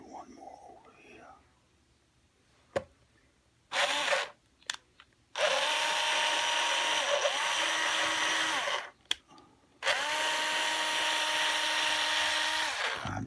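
A power drill bores into the soft wood of a custom Telecaster guitar body in several sustained bursts separated by pauses, close and loud, with quiet whispered talk in the gaps.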